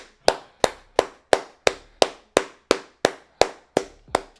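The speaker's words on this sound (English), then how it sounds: "Oh man, just imagine I clapped for like 2 more minutes" A single person clapping twelve sharp, evenly spaced claps, close and loud, alone with no other sound, the rhythm holding steady throughout.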